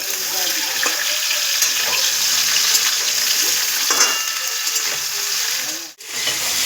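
Mixed vegetables sizzling in a pan during home cooking, a steady crackling hiss with occasional scraping stirs, fairly close and continuous, dipping briefly near the end.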